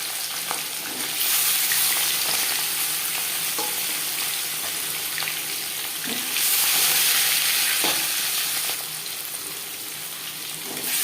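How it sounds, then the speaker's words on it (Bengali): Rui fish pieces frying in a few spoons of hot refined oil, a loud continuous sizzle that swells and eases in waves, with occasional light scraping taps, close and alone without talk. "চার পাঁচ চামচ রিফাইন্ড অয়েল গরম করে নিয়েছি। এবার দিয়ে দেব লবণ হলুদ দিয়ে রাখা মাছ।"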